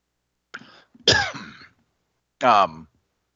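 A person clears their throat, then lets out two short, rough coughs in affirmation, with a pause before the last one, close and clear against silence.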